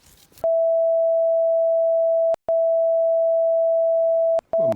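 A metal detector gives a loud, steady electronic tone while someone digs in muddy ground in North Rhine-Westphalia. The tone holds for long stretches with two brief breaks, and no one speaks.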